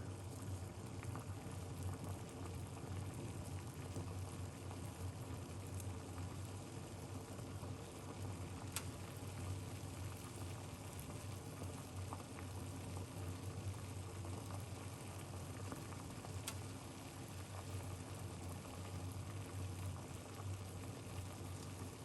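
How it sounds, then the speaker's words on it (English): A pot of liquid with lemon and garlic cloves simmers on a stove, giving a steady, dense bubbling hiss with a low rumble that holds evenly throughout, close and moderately loud with no talking. "So just making it boil a little bit."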